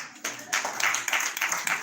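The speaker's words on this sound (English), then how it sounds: "Are you clapping for me?" Scattered clapping from an audience at a brand activation agency's anniversary celebration, a few uneven bursts of hands that start after a brief pause and grow in patches.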